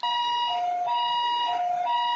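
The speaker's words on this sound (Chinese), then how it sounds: "救护车接到报案，赶到现场救援" An ambulance siren wails at a car crash scene beside a roadside utility pole, its steady two-tone pattern alternating in a loud, continuous cycle with no talk.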